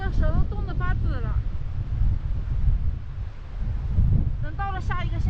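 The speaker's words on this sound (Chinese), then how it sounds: "好大的风" Strong wind buffeting a microphone on a cold, rainy cycling road in Tibet, a rough low roar that surges steadily, with a voice speaking at the start and end.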